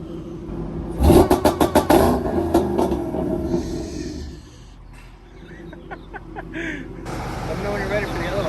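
An 800 HP Shelby engine blips up in a quick burst of sharp revs with the clutch held in, then settles to a rough idle, loud and close, with people talking over it.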